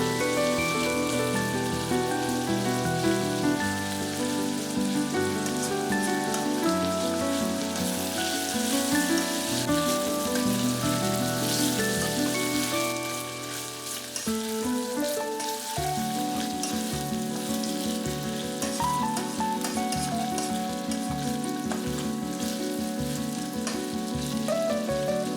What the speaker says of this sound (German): Der Speck wird jetzt mit den Zwiebeln bei moderater Hitze mit angebraten.